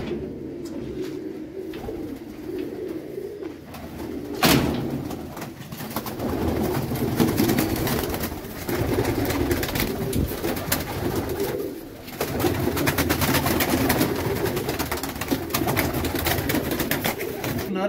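Pigeons coo continuously in a loft as a Chinese female pigeon is handled and released, a dense, steady chorus of throaty cooing with a brief sharp knock partway through.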